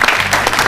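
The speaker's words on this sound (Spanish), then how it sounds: "Qué tímido el aplauso, vaya, vea." Audience claps in a short, dense burst of applause, loud and close, filling the whole moment without talk.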